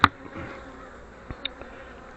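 Honey bees hum steadily at an open hive as they are moved up into an empty deep box to draw out comb. The buzzing is soft and continuous, with a few light knocks.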